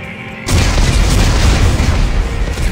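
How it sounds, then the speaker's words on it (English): A single heavy explosion of armed charges in Dead Space 3 bursts in after a quiet moment and leaves a sustained, loud, rumbling roar that slowly fades, heard alone without speech. "Computer, arm explosives. And detonate."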